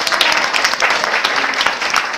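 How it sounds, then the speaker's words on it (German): A crowd at a charity bazaar in Hannover applauds loudly and close for Ralf Bauer, a brief burst of dense, steady clapping with no talking. "Ein kleiner Applaus für Ralf Bauer an dieser Stelle."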